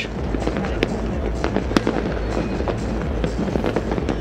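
New Year 2025 fireworks going off across a night sky, a dense run of sharp cracks and booms at varied distances over a constant rumbling wash, some bursts loud and close.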